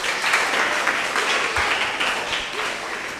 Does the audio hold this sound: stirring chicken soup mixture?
no